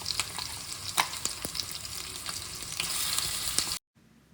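A coarse-ground paste of ginger, garlic and green chilli sizzles and crackles in a hot frying pan while being stirred, a steady close fry with small pops, cut off abruptly near the end.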